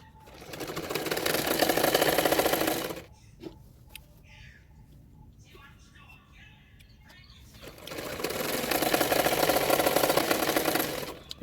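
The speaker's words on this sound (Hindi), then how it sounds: "इसी तरह से अंदर रखते हुए लायन का फैब्रिक और नेट का फैब्रिक सिलाई कर लूँगी" A sewing machine stitches lining fabric to net fabric for a long frock in two loud, fast bursts of rapid needle chatter, separated by a quiet pause filled with faint handling clicks.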